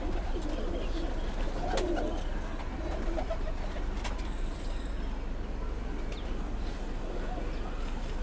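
Pigeons coo softly in a loft over a constant low hum of background noise, with a few scattered short flutters and knocks, the coos faint and intermittent.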